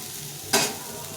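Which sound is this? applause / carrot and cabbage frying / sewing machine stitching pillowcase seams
carrot and cabbage frying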